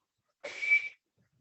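A single short, faint human whistle, a steady breathy tone about half a second long, imitating the wheezing sound of air forced through narrowed airways in the lungs, alone against silence.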